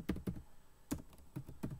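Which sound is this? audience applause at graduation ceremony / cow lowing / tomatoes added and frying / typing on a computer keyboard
typing on a computer keyboard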